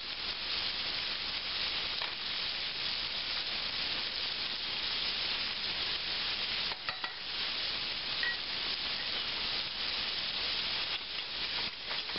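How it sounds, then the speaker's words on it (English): Flour is whisked into melted butter and peanut oil in a hot pan, a steady scraping, bubbling sizzle that continues without pause at moderate loudness, with no talk. "Whisk that flour in."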